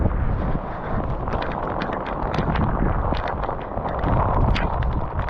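Hailstones clatter steadily beside a big sub-arctic river in the Torngat Mountains of Labrador, a dense hissing rattle with scattered sharper ticks over a low wind and water roar.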